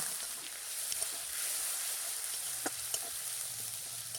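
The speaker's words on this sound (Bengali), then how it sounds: "অল্প একটু জল দিয়ে মশলাটাকে আরও একটু কষিয়ে নেব" Spice paste for lau chingri, a Bengali bottle gourd and shrimp dish, frying over high heat with a splash of water, a quiet steady sizzle with a few soft clicks and stirring sounds, no talking.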